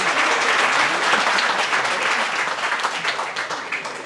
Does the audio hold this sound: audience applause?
yes